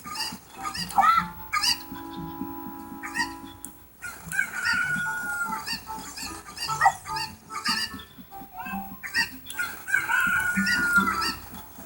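Busy game-style animal chatter from Zelda: Ocarina of Time, with clucking and squawking chicken calls popping up repeatedly over a steady background of music and effects.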